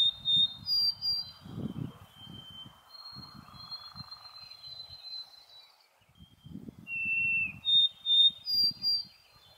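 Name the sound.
white-throated sparrow song, recording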